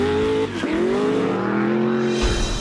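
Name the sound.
off-road race vehicles driving in desert race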